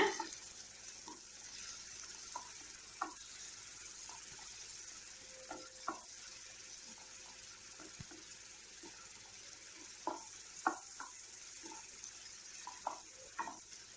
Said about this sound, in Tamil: வெங்காயம் சேர்த்துட்டு வெங்காயத்தை வந்து நல்லா வதக்கி விடுங்க